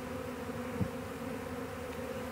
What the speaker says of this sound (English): There's still a bunch of bees right here.